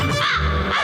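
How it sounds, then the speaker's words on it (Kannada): A cartoon crow caws in one short, harsh, nasal burst from a Motu Patlu animated episode, loud and close with no talk over it. "ಕಾಗೆ ಕುಗ್ತಾ ಇದೆ ಕಣೋ."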